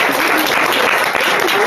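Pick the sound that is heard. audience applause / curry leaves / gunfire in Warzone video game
audience applause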